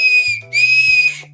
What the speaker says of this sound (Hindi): निकालते हैं सीटी को, ग्रीन कलर की सीटी,